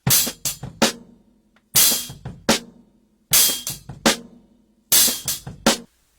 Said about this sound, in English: this paradiddle is played between the bass drum and the snare